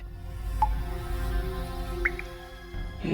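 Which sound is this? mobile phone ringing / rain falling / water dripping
water dripping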